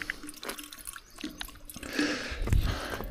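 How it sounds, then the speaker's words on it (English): Water drips and trickles from an old, ten-year-old filter that is falling apart, hung from a hook on a bikepacking trip. Irregular close drips and splashes build into a louder spatter toward the end. "Don't mind all this dripping"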